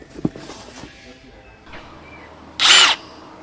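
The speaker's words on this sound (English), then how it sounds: "Cordless Impact Wrench, not driver wrench." Ryobi 18-volt cordless impact wrench giving one brief, loud, high whirring burst of about half a second, close up, after some faint handling noises.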